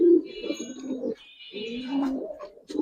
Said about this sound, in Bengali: চুনা কবুতর রাখেন ভাই